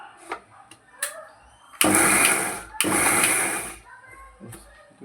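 A mixer grinder whirs in two loud bursts, coarsely grinding a pav bhaji mixture of onion, capsicum and tomato in a home kitchen, with a brief pause between runs and someone talking softly before and after.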